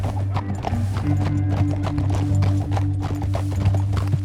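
Horse hooves clip-clop steadily and close in the Western video game Red Dead Redemption 2, an even rhythmic beat over a low ambient rumble.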